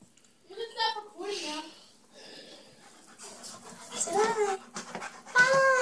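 A dog pants and whimpers nearby in short breathy bursts and whines, while a person talks quietly at intervals.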